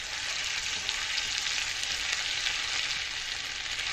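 Ginger-garlic paste with cumin seeds sizzles steadily in hot ghee for a tadka, a continuous crackling fry close up with no voices.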